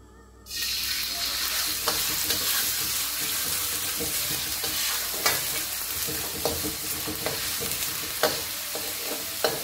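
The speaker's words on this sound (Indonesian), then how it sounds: "kita panaskan minyak dengan api sedang ya, terus kita goreng aja nih." Steady, dense sizzling of chicken frying in hot oil over medium heat, loud and close, with a few sharper crackles and pops scattered throughout.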